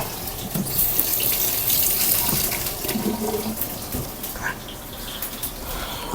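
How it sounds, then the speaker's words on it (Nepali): Unpeeled small garlic cloves rinsed under a running kitchen tap, water splashing steadily and close by with light shifting as the cloves are turned in the stream. "र यसरी सानो सानो खालको लसुन नतासिकन यसलाई म चाहिँ हल्का पखालेर मात्रै"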